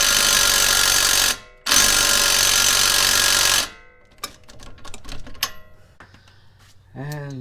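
Power tool whirs loudly and continuously as it tightens the bottom bolt of a Subaru WRX race car's lift kit, with a brief pause partway. Clicks and clatter follow, and a voice speaks near the end.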